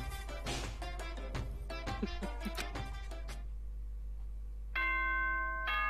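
A chime from the video game Danganronpa: Trigger Happy Havoc sounds near the end as a clear, sustained bell-like tone, after a stretch of quiet, percussive game music that fades out.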